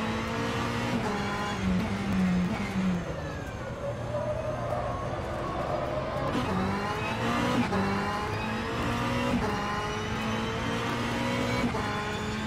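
Race car engine lapping Laguna Seca in the rFactor 2 racing game, revving up and down through gear changes with rising whines and shifts, loud and continuous throughout.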